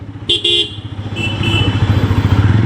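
A motorcycle runs close by on a night ride through town, its engine throbbing steadily while a couple of short horn toots sound near the start.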